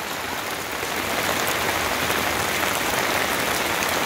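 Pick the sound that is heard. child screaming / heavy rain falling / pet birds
heavy rain falling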